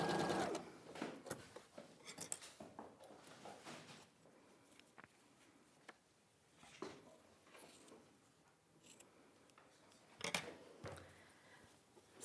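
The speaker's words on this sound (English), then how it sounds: "So just stitching the final one on." A sewing machine stitches the last seam of a cathedral window quilt in short, quiet bursts of rapid mechanical whirring, broken by pauses and light handling clicks, with no one speaking.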